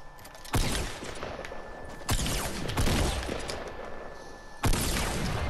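Fortnite gunfire bursts out in loud, close volleys of rapid shots, three main bursts separated by short gaps with quieter shooting between them, no talk over it.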